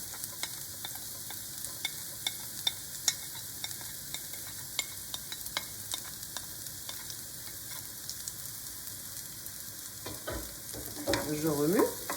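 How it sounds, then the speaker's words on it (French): Shallot frying in a pan with a soft, continuous sizzle and light scraping taps as it is stirred, fairly quiet and close, with a brief clatter near the end. "Je remue."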